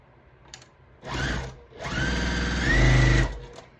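A sewing machine stitches a 2.5 inch quilt square to a 6.5 inch strip, whirring loudly in two close runs, a short burst and then a longer steady one, with no talk.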